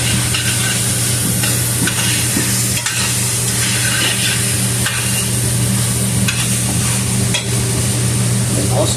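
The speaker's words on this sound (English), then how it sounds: "I want to add my garlic." Garlic hitting a hot pan for chicken enchiladas with paprika, sizzling loudly and steadily while a spoon scrapes and stirs through it, close and continuous without speech.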